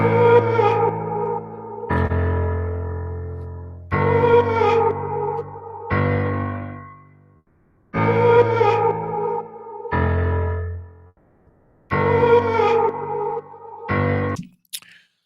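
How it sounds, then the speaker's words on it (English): Music loop played back in Studio One software, repeating chord blocks about every two seconds with a heavily effected, distorted tone and short gaps between phrases, loud and without talk. "Let's hear the loop that we have."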